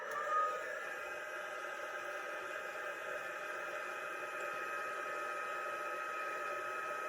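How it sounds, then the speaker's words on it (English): A heat embossing tool blows a steady, even whoosh of hot air throughout, faint and distant, during holiday card making. "I'm going to heat emboss, and I'm going to put my heat tool as far away from the camera as I can"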